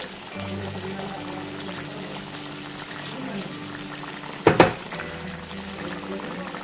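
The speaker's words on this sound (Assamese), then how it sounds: "এতিয়া ইয়াতে দি দিওঁ পানী।" Water poured into a pan of frying duck meat, a brief loud gush lasting about half a second near the end, set against a steady low background hum.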